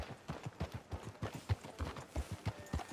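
Horse hooves clip-clop at a steady walking pace in Red Dead Redemption 2, a soft, even run of regular hoofbeats on a town street.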